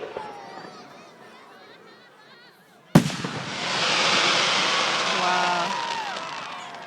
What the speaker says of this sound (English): You can see like little balls of smoke for every single firework.